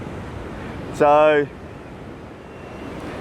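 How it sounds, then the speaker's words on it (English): Steady wind rumbles and buffets against the microphone throughout, on the Gold Coast near Surfers Paradise, with one brief spoken word near the start. "it is a bit windy, so you'll have to bear with me if it is too windy"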